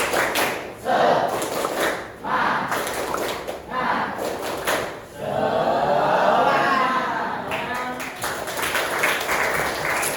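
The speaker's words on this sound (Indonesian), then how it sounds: "Ya, tepuk semangat." A group performs a rhythmic spirit clap (tepuk semangat) during a school counseling session, with repeated bursts of clapping and thumps, a longer sustained clapping passage in the middle, and voices mixed in.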